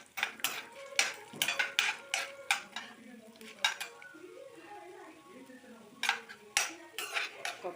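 Chana dal, urad dal and mustard seeds roasting in a pan, heard as a rhythmic run of spoon scrapes and clinks against metal over a faint sizzle, close and fairly quiet; no one speaks.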